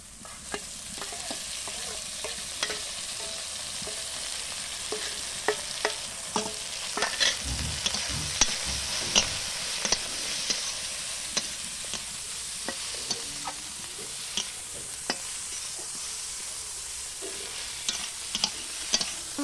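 Green chillies fry in hot oil in a pan, giving a steady close sizzle with frequent sharp pops and crackles throughout, no voices.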